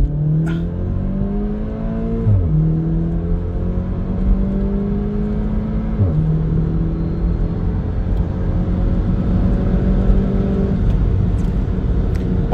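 A modified Volkswagen Polo GTI accelerates hard at high speed, its engine note climbing steadily and dropping briefly at two gear shifts before rising again, loud and close with a constant road roar underneath.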